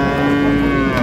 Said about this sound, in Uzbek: Hozir sigirlar ko'rsataman sizlarga narxini.